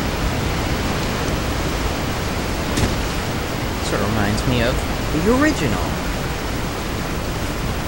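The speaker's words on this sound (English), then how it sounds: "Getting under those stupid waterfalls." Steady rushing waterfall in the video game Resident Evil 4, a constant broadband roar filling the whole clip, with someone talking over it partway through.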